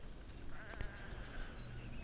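Sheep bleating in a video game, a short bleat or two faintly above a steady game-audio bed, fairly quiet, with no speech.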